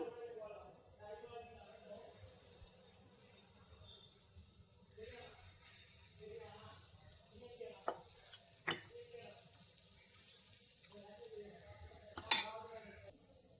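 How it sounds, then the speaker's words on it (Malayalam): Batter ladled into a hot pan greased with ghee gives a soft, steady sizzle, faint and close, with a few sharp clinks of a utensil along the way while a person talks over it. "പാൻ ചൂടായി നമുക്കതിലേക്ക് മാവ് കോരി ഒഴിച്ചു കൊടുക്കാം"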